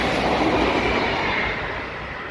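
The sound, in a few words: train passing by at night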